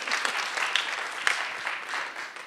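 Audience applause welcoming Chris Robinson at a child flourishing symposium, steady clapping from a room of people that carries on evenly throughout at a moderate level, with no speech over it.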